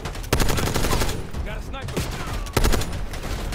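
Heavy gunfire in Call of Duty 6, loud sustained bursts of automatic fire with sharp louder volleys at the start and again near the end, a voice briefly audible beneath the shooting.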